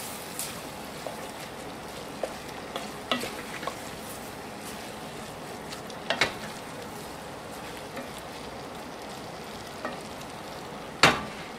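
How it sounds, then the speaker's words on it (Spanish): Lentils with salami stirred in a pan, a steady soft bubbling sizzle under scattered clinks and scrapes of a utensil, with a sharper knock near the end. "Mezclamos bien."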